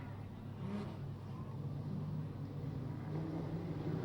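Modified production race cars set off from a start at Charlton Raceway, a faint, distant engine drone humming steadily beneath a low, washy background without distinct revs.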